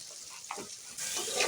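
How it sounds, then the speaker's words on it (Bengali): Potatoes fry in hot oil in a wok, making a soft crackling sizzle with brief stirring scrapes that swells louder in the second half. "এখন আমি আলুগুলো নাড়াচাড়া করে ভেজে নেব বাদামি কালার আসা পর্যন্ত।"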